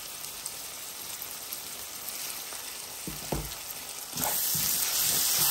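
Onion, garlic and salt sizzle steadily in a hot pan, a close, continuous crackling fry with a couple of stirring knocks before the sizzle swells louder toward the end.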